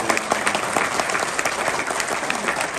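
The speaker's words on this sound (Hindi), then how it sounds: "एक बार जोरदार ताली बजाएंगे" Loud, dense clapping from the audience at a mushaira poetry recital in Dubai, sustained and even throughout with a few sharper individual claps standing out.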